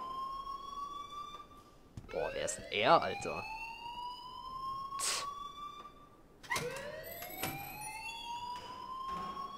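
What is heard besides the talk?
alarm ringing in the video game Life is Strange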